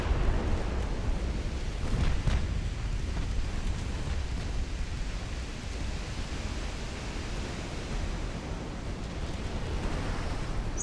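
Flash fire explosion aboard a warship in the naval game Ultimate Admiral: Dreadnoughts, a loud, sustained broadband roar with a heavier burst near the start, rumbling steadily without a break and with no voices.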